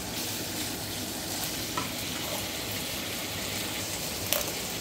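Chicken breast fries in a pan with a steady, close sizzle and crackle, a few brief clinks cutting through near the end.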